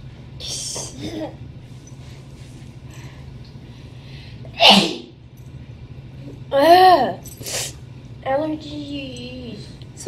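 Amid scattered talking, a few sharp bursts sound like sneezes, one loud and abrupt near the middle, followed by more voices.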